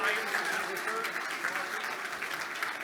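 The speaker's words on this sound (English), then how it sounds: "Give him a big round of applause" An audience applauds the MC at a business excellence awards gala, a steady wash of clapping that holds through the whole stretch at an even, moderate level, with some crowd noise mixed in.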